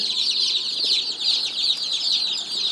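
Barred Rock pullet chicks chirping constantly, a dense, high, overlapping peeping from a brood of young chicks that runs steadily throughout at moderate loudness with no talking.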